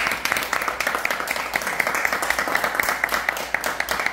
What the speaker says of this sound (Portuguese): Uma salva de palmas bem forte.